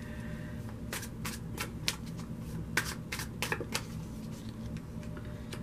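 Tarot cards being shuffled in a steady run of crisp riffling bursts over a low background hum, close and moderately loud, with no voices.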